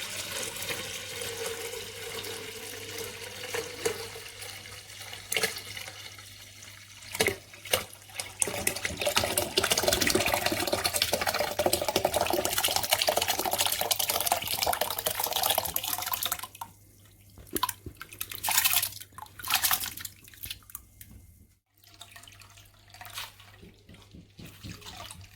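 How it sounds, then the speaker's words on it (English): Red currant wine liquid strains through a muslin bag into a sterilised bucket, a continuous splashing pour and trickle with drips, easing into intermittent dribbles and splatters toward the end. "Use a muslin bag to strain the liquid off into another sterilised bucket."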